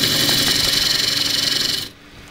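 A gouge slices wood on a bowl-turning lathe with a close, loud, steady scraping hiss and a faint rhythmic flutter, cutting off abruptly near the end and leaving quiet room tone.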